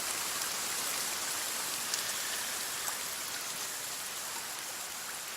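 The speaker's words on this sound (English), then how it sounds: "Boy, it's raining hard." Steady, heavy rain pours down continuously, a dense hiss of drops drumming on a surface with no letup and no voices.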